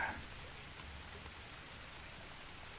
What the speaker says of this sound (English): I know it's raining again.